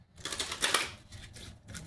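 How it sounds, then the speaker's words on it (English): Tarot cards are shuffled by hand in quick, crisp bursts of riffling and flicking, close and fairly quiet, with brief pauses between bursts and no talking. "I'm gonna do 3 shuffles"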